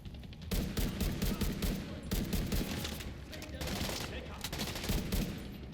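Heavy bursts of automatic gunfire in The Division 2, loud volleys coming in waves with short pauses between them, dense and continuous throughout.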